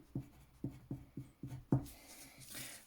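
Handwriting during a geometry rotation problem, a series of short scratchy pen strokes in an uneven rhythm, close and fairly quiet, with no talk.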